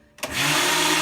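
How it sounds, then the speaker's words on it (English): An old Osterizer blender runs on its highest frappe setting whipping cream, kicking on abruptly after a brief quiet and settling into a loud, steady, high-pitched motor whine close by. "it's on a frappe setting, which is the highest setting of this ancient oysterizer blender that I have"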